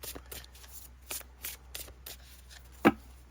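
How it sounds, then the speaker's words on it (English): Oracle cards shuffled in several quick, soft riffling bursts, close by, ending with a sharper tap. "Really smooth shuffle."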